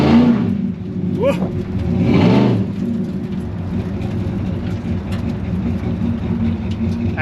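Square body Chevy Blazer engine revving at well under quarter throttle, a loud, close engine roar that swells in two pulses and settles into a steady drone, with people talking and exclaiming over it.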